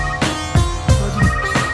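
A telephone rings in a Punjabi comedy film scene, giving several repeated bursts of ringing across the short stretch with no talk over it.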